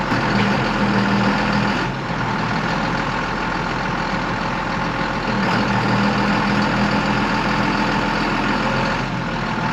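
A planter fan on a tractor runs with a loud, steady, low mechanical drone that holds unbroken throughout, close by and with no voices over it.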